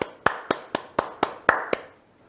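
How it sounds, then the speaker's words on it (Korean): Seven sharp hand claps ring out close and evenly spaced over about two seconds, each a crisp single smack with a short decay, alone with no talk. "진짜 박수를 보내드리고 싶습니다."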